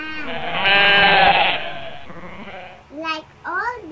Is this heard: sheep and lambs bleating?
yes